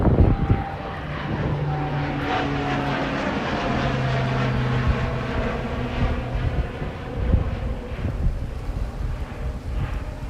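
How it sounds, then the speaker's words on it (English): An airplane taking off in Tokyo drones steadily in the distance, its engine hum rising and lingering under a low, rumbling wash of noise. "Oh, look at the airplane taking off."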